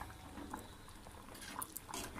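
Raw mango curry boiling in a pot gives faint, soft bubbling and small liquid pops, scattered irregularly over a quiet, steady background.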